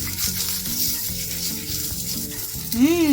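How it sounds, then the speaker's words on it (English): Sausages sizzling in a cast iron pan, a steady close frying hiss with a tonal hum underneath, then a voice rising in pitch near the end. "let's check on our sausages. These are getting nice and brown there already."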